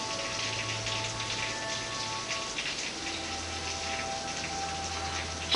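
Heavy rain pours down outside in a dense, steady hiss with a constant wash of drops, heard from indoors at moderate distance and without any talking.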